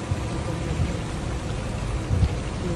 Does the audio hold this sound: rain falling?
yes